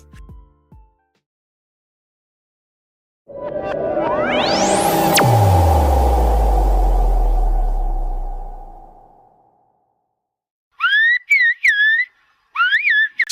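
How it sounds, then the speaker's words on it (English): Silbo Gomero, the whistled language of La Gomera, Spain, comes in as a few short bursts of sharply gliding, warbling whistles near the end. Before them, a loud, sweeping, rumbling effect plays alone. "Silbo Gomero, the whistling language of Spain."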